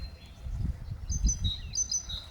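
Small birds chirp and tweet in short high calls over a low outdoor rumble at the Myrhorod resort in Poltava region, Ukraine, in early April, moderately close, several overlapping notes.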